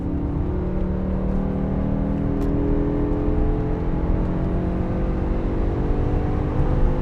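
A V10 BMW E60 M5 with a 6-speed manual drones steadily at close range while driving, a low continuous hum with faint revving shifts and no voices.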